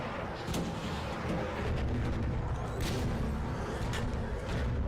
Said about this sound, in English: Flashbang out.